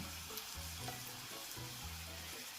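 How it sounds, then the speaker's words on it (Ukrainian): Steady crackling sizzle of homemade meat patties frying in oil, close and continuous, with a low background hum. "Смажимо котлети ще із деякими хитростями"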